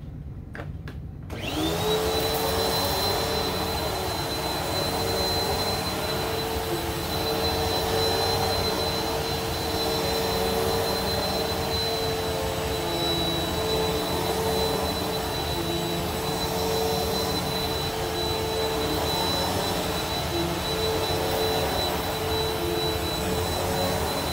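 A Bissell Powerforce Helix upright vacuum cleaner switches on and runs steadily on carpet, its loud, close motor roar carrying a constant high whine that holds level throughout.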